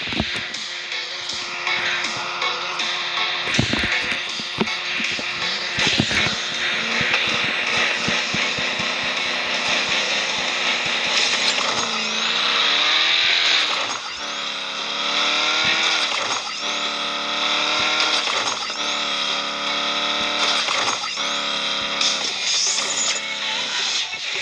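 An RC car drag race run, the Race Max Pro A-Class car whining loudly with rising and falling motor pitch, tire scrabbling and clattering at the start, the high electric drone sustained throughout with no talking.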